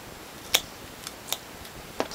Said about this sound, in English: The first thing you're going to need to do is cut the wire